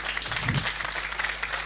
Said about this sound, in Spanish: Agradecemos a través de un aplauso la exposición que han hecho